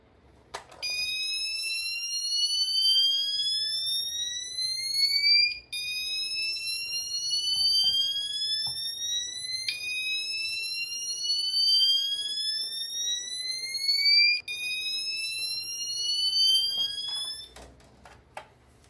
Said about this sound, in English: I do like the whoop tone as it is a very unique tone. However, it is quite noisy.